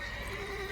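A horse neighing in The Witcher 3, a brief, close, tonal whinny held throughout with a wavering pitch, and no talking.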